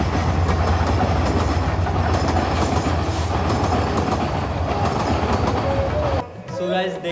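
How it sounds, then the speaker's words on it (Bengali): A freight train rumbles past close by near the Meghna river in Bangladesh, a loud continuous roar with rhythmic wheel clatter that cuts off abruptly near the end, leaving quieter ambient sound. "এটি একটি মালবাহী ট্রেন।"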